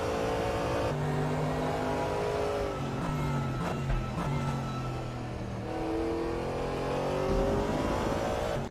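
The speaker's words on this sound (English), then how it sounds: "As Theo comes down hard on the brakes and pushes his car up underneath the arch of Likamali." Race cars at Mount Panorama in a racing video game, engines braking hard then revving back up with rising and falling pitch through the gears, loud and continuous throughout, with no talking.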